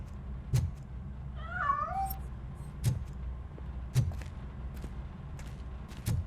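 A cat in the RoboCop: Rogue City video game gives one short, wavering meow as it escapes. Sharp footstep-like knocks land at regular intervals around it, with a low ambient rumble underneath.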